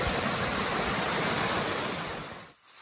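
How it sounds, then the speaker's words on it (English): Small waterfalls at Hardcore Cascades on the Appalachian Trail, a steady broadband rush of falling water close by, continuous and loud before dropping off abruptly near the end. "Some cool little waterfalls named after a maintainers or someone."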